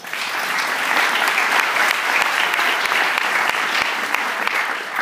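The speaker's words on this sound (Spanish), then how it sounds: "Un aplauso más." Sustained audience applause at a church graduation ceremony, a dense, steady wash of many hands clapping at even loudness throughout, with no talking over it.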